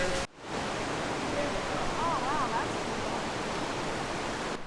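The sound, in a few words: loud river rushing through a gorge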